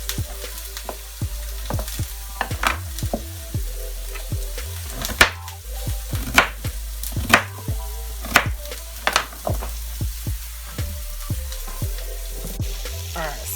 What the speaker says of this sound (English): I got my onions on the pan with a little oil